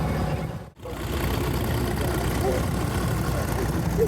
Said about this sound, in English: 1965 T65 Deutsch tractor. They run an air-cooled engine.